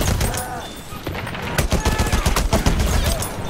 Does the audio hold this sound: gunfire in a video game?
yes